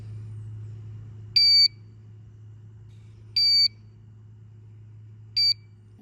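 Three loud electronic alarm beeps from a GZAIR SA103 portable carbon monoxide detector, spaced about two seconds apart over a low steady engine hum.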